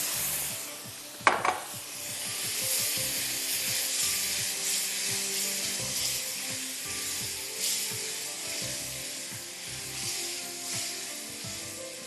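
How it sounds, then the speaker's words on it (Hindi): Boiled lentils tipped into a hot oiled pan for a spicy Sindhi daal, giving a brief splash and clatter followed by a steady, fairly close sizzle and faint stirring scrapes, with no talking. "दाल जो आपने बॉईल की हुई है वो पूरी आप इसमें डाल दीजिए।"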